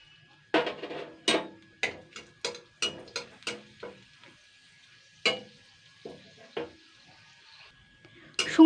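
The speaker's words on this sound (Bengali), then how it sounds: "শুকনো লঙ্কাটাকে এইভাবে তেলের মধ্যে পুড়িয়ে নিতে হবে।" Chopped dried red chillies fry in oil in a kadai over a low flame, heard as a series of sharp, close scraping stirs and clicks, irregularly spaced, over a faint background sizzle.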